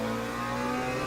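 Porsche GT3 race cars at Interlagos in Le Mans Ultimate give a steady mid-pitched engine drone, held at a constant whine as they pass, moderately quiet and without pause.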